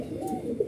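A pair of bhulo ballas pigeons, male and female, cooing in a low steady throaty murmur close by, with a slightly louder note near the end of the short burst.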